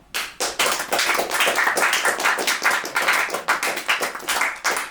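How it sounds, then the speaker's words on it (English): Studio audience clapping together at a comedy show, a dense burst of individual claps rising quickly and sustained evenly at close range with no talk. "So for all of you who believe that Jacob is the asshole, please applaud."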